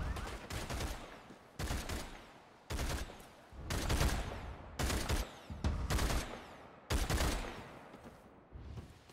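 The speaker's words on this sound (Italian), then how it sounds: "Ci stanno sparando qua, sì." Repeated bursts of gunfire in the vampire battle royale game Blood Hunt, about seven loud volleys in quick succession with brief gaps between them, close and dominating the scene.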